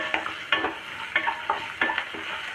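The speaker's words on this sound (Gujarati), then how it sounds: "હવે જે આપણે ડુંગળી લીધી છે એ ડુંગળી ઉમેરી દઈએ" Onion stirred into hot oil already seasoned with asafoetida and cumin, for a fresh green turmeric dish, sizzling steadily with about six sharp scraping stirs at a quick, regular beat, close by.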